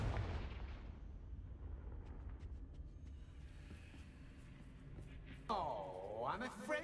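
The Confringo blasting spell from the Hogwarts Legacy video game goes off as a deep booming explosion with a long rumbling tail, followed by a rising whooshing magical effect near the end.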